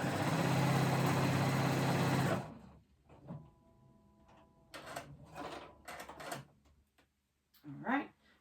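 A sewing machine stitches straps onto a pair of overalls, a steady, loud mechanical whir running for about two seconds before stopping, followed by quieter handling sounds and a person talking.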